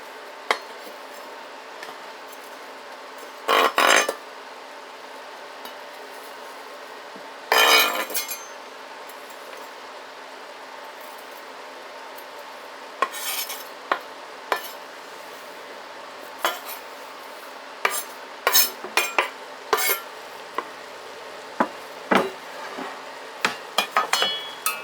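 Vegetables stirred into browned ground beef in a pan for American goulash, with scattered metallic scrapes and clinks of a utensil against the pan, some clustered in quick bursts, over a quiet background.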